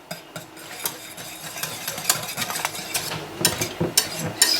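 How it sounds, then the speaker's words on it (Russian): A spoon stirring 20% sour cream into a milk gelatin pudding mixture in a bowl, with a rapid, irregular series of close clinks and scrapes that grow busier toward the end. "Перемешиваем."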